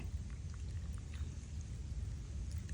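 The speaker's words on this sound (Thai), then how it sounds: "เทน้ำส้มสายชูนี่แหละ ใส่ลงไป" Vinegar is poured into a container over eggs in a homemade mosquito repellent, a soft continuous rushing trickle with a low rumbling undertone, fairly faint and unbroken throughout.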